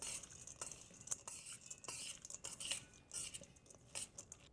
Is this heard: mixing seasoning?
yes